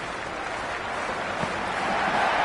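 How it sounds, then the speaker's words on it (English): A stadium crowd cheers in the Cricket 26 video game before a Big Bash League match between Hobart Hurricanes and Sydney Thunder, a steady, dense roar that swells slightly toward the end. "already the crowd is up and about"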